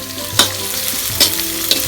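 Curry leaves sizzle steadily in hot oil with mustard seeds, cumin and ginger-garlic paste for a village-style chicken curry, with a few sharp stirring scrapes, close and alone.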